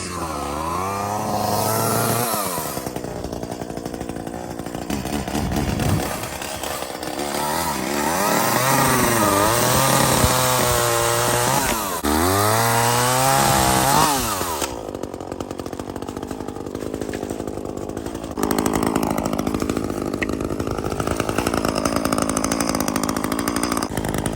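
A chainsaw being used to trim apple trees fires on the first pull without choke and runs loudly and steadily, its engine note rising and falling through repeated revs and cuts, close up throughout.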